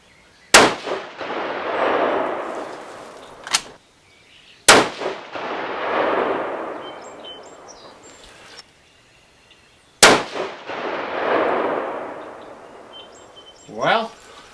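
A 6.5 PRC Bergara B14 rifle fires a three-shot group: three loud, sharp reports a few seconds apart, each followed by a long rolling echo, with brief clinks between shots.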